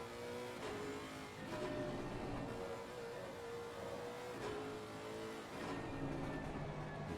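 A GT3 race car in a racing video game at Suzuka sustains a steady engine drone, its tone dipping and climbing as the car downshifts through corners, with a few brief gear-change surges.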